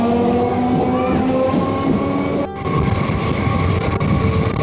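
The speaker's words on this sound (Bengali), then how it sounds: "এখন আমাদের ট্রেন আবার পুনরায় যাত্রা শুরু করে দিল হালিশহরের উদ্দেশ্যে।" A passenger train pulls away from Shyamnagar station toward Halisahar with a loud, steady rolling rumble and droning tones, briefly dipping midway before the running noise resumes.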